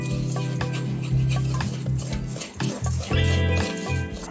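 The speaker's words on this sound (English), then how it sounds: "we have to keep on stirring it because the pot is very hot" Sugar melting in a very hot pot is stirred steadily with a spoon while making bene balls, a continuous rasping scrape over a low heavy hum, loud and close, with no talk.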